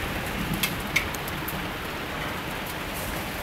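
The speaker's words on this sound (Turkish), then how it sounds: "Yağmurlu bir pazar gününde." Steady rain falls during a Sunday barbecue outdoors, a continuous even hiss of drops with a couple of brief sharper taps early on, no voices, filling the scene evenly.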